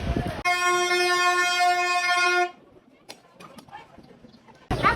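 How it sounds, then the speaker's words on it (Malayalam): A train horn blows one long, loud, steady blast as a train arrives at Ooty, then fades into quieter station clatter and scattered noises, with a loud burst of sound returning at the very end. "കാത്തിരുന്ന ട്രെയിൻ വന്ന്, പക്ഷെ നമുക്ക് ടിക്കറ്റ് കിട്ടിയില്ല"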